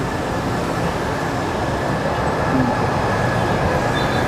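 A loud, continuous rumble of a passing MRT metro train on EDSA at Cubao fills the clip, steady and broadband without pauses or voices.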